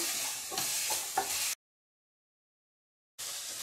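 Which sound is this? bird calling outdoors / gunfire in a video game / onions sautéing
onions sautéing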